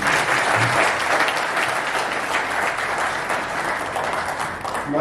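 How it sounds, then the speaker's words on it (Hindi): A crowd at a political meeting for a Lucknow mayoral candidate claps loudly and steadily, a dense unbroken wall of applause that barely fades over five seconds. "जोरदार तालियों।"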